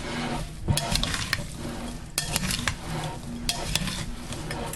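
A spoon stirs washed, frozen mixed berries in a bowl, with wet scraping and clinking in uneven bursts, close up and steady, with no voices.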